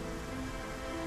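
Rain in the video game Trauma Center: Second Opinion, a dense, steady hiss of falling rain that fills the short moment evenly, with no voices.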